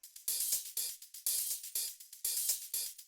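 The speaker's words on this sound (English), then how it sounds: "And this guy, shaker." Shaker in a Kpop dance track, playing alone as crisp, bright bursts of rattling noise in a steady, repeating groove, loud and close with short swishing strokes and no talk.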